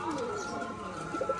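A male Rajshahi biscuit pigeon coos close by in a brief, soft, throaty burst, with a faint voice in the background.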